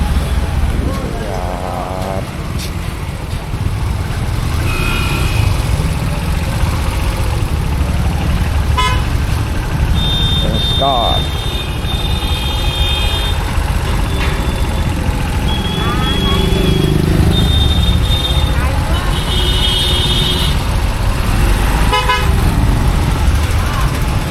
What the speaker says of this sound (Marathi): ट्रॅफिक खूप मित्रांनो